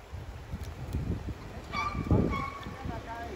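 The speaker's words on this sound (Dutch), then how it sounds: "Ik film nou deze grote ganzen." Large geese honking outdoors, a few nasal honks midway through amid wind-like rumble and background noise.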